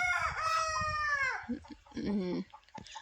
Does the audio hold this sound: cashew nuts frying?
no